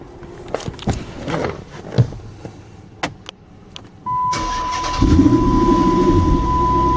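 A Dodge Challenger SRT8 cranks over after some faint clicks and handling noises, with a whine, then catches and settles into a steady, loud, rumbling idle that continues to the end.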